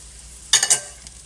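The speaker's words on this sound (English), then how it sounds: "And I am going to saute this heaping pile of mushrooms." Sliced mushrooms and chopped carrot hit a pan to sauté, giving a short burst of sizzling and stirring scrapes that fades to a quieter hiss, close and without talk.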